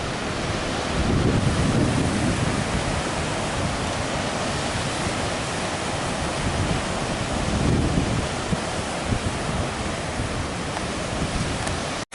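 Ocean surf at the beach, a broad continuous wash of breaking waves mixed with microphone wind noise, swelling slightly around two points, with no voices.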